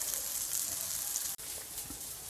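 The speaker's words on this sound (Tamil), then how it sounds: "மீதி இருக்க மீனும் பொரிச்சு எடுத்துடலாம்." Sheela fish frying in oil, a steady hiss of sizzling fat throughout, quiet and even, with a brief cut of silence near the middle.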